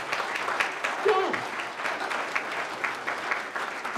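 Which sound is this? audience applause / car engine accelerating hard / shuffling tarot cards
audience applause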